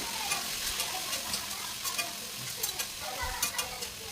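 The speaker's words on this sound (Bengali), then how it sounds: "কেটে রাখা বরবটিগুলো লবণ দিয়ে হালকা পরিমাণে ভেজে নেব" Yardlong beans fry with salt in mustard oil in a wok, giving a steady close sizzle broken by repeated scraping and stirring clatters, with no talking.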